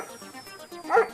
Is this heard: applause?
no